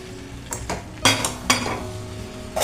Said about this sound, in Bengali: এবারে আমি সিদ্ধ করে রাখা মুগ কড়াইটা দিয়ে দিলাম।